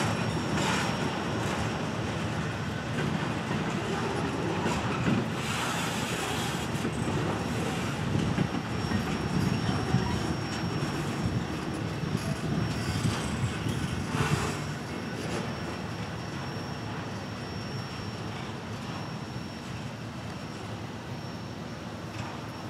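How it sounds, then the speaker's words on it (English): A long hot freight train rolls by nearby with vans and containers, its cars clanking and wheels rumbling in a steady stream, with faint squeals and no talking. "we'll let this last car clank past us."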